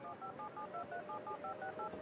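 Telephone keypad tones from the Gray Matter adventure game play as a quick series of short, clear dialing beeps in steady succession.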